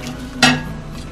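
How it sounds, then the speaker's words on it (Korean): Blanched taro and meat dropped into a pot of simmering meat broth for Korean taro soup, giving one brief clattering splash and clink of utensil against pot over a steady low simmer hum. "이제 아까 끓여 놓은 고기 육수에 데쳐 놓은 토란과 고기를 넣겠습니다"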